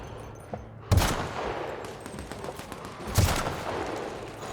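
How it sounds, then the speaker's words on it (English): Bursts of rapid gunfire in The Outer Worlds, with two loud volleys standing out over a continuous crackle of shooting and ambient game noise. "let's just go and start shooting these guys"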